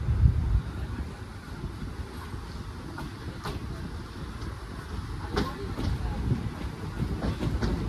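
A passenger train on the Byndoor to Madgaon route pulls out of Mookambika Road railway station, its steady low rumble mixed with rhythmic wheel clatter and occasional sharp rail clicks throughout.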